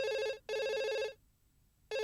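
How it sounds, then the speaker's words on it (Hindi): A telephone rings with two loud, bright electronic bursts separated by a short pause, and a third ring begins as the clip ends, with no voices over it. "मर्सी, तुम्हारा फोन।"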